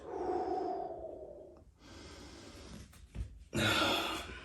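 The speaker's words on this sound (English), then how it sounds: "Breathing through it, folks." Heavy breathing during a floor exercise session while resting on the forearms: a long drawn exhale, a short pause, then sharper loud breaths and a strong final exhale, close and alone with no talking.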